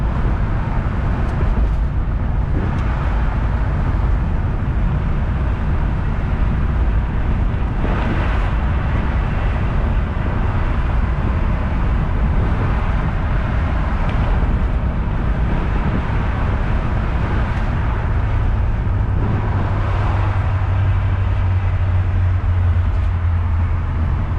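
A 1966 Ford Galaxie 500 convertible engine idles with a steady low rumble throughout, close and loud, with wind buffeting the microphone and no talking.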